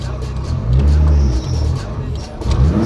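A car pulls away from a stop, its engine rumbling low and rising as it accelerates, heard from inside the cabin with a brief surge in the middle.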